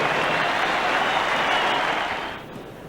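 A large cricket crowd at the SCG applauding and cheering Greg Chappell in his final Test innings, a broad roar of clapping and voices that holds steady then fades slightly, heard from a distance.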